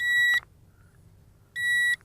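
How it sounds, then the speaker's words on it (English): A brushless RC136WGS GPS quadcopter beeps while returning to its home point: two short, bright electronic beep bursts about one and a half seconds apart, clear and close, with near silence between them. "it's beeping and the quadcopter is heading back towards its home point"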